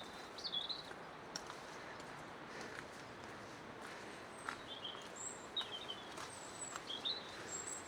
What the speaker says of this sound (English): Robin and song thrush singing together.